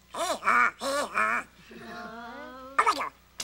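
A voice imitates a duck with a few quick nasal quacks, coming in short bursts between other spoken exclamations on a children's television show.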